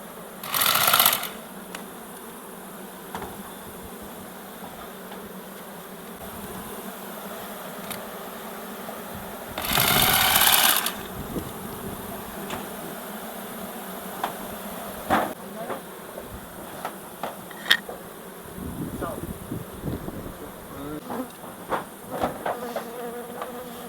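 Honey bees buzz around hives during a May honey harvest in Samarkand, a steady faint drone throughout, broken by a few louder bursts of noise and occasional clicks and knocks.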